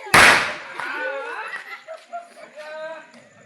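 A single sharp firecracker blast goes off close by, cracking loudly at the start and then fading quickly into a short tail, after which people chatter and laugh nearby during a festive family outing.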